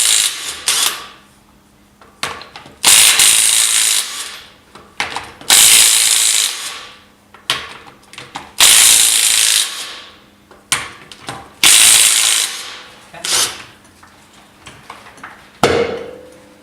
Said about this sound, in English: I got a 21mm socket for lug nuts.